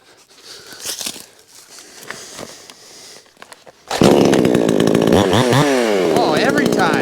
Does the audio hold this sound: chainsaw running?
yes